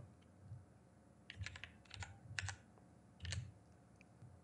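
Keys clatter on a computer keyboard during a shader-editing fix, several short bursts of clicky presses with small pauses between them, close but fairly quiet, with no voices.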